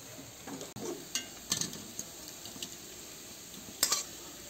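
Paneer pieces fry and get stirred in a pan for restaurant-style chole paneer: a faint, steady sizzle broken by a few light metallic clinks and scrapes of the spoon, with no talking.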